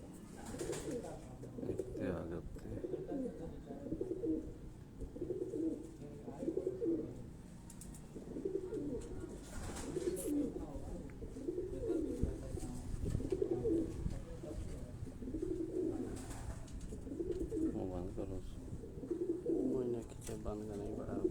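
Black-faced pigeons coo in a steady repeating rhythm close by, with people talking quietly underneath.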